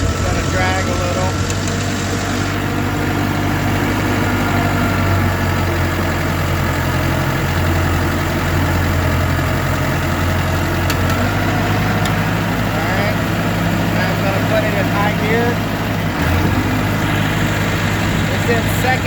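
John Deere 450C bulldozer diesel engine running steadily in second gear on high range at about 1800 RPM, a loud continuous low rumble with no breaks, and a voice talking over it.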